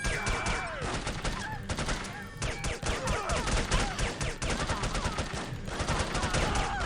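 Heavy gunfire in the spy shooter No One Lives Forever, rapid automatic bursts and repeated shots packed tightly together, loud and continuous across the whole stretch.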